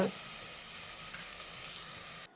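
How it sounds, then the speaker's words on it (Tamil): Tomatoes with turmeric and chilli powder sautéing for pressure cooker chicken biryani, a continuous even sizzle heard close up that cuts off abruptly near the end. "இப்போ தக்காளி கொஞ்சம் வதங்கட்டும், அந்த அளவுக்கு கொஞ்சம் வதக்கி விடுங்க"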